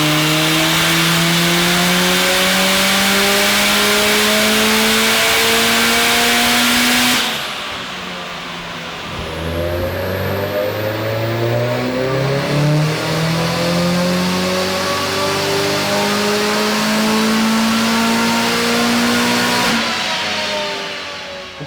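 Turbocharged Mazda 3 MPS engine with a ball bearing turbo revving hard on a dyno, a loud sustained climbing drone that drops off, then builds again through rising pulls.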